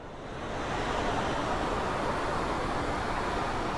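A river rushes far below a steep mountain road, a dense, unbroken roaring hiss that swells in over the first half second and then holds steady and loud, with no voices.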